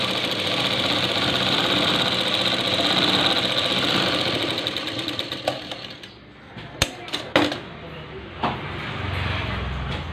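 A tailor's sewing machine stitches fabric for a prince-cut blouse, running in a steady, close whir for about six seconds before stopping, followed by a few sharp clicks and soft handling sounds.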